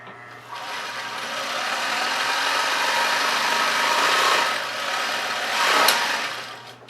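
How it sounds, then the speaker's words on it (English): Singer 20-33 sewing machine running steadily while winding a bobbin, a continuous close whirring motor hum with a brief rise near the end, no talking. "And then, while I'm sewing, the bobbin will wind."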